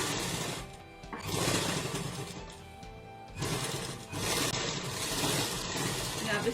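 A sewing machine stitches lace onto a kurta neckline in bursts of busy mechanical whirring and rattling, pausing briefly between runs, fairly close.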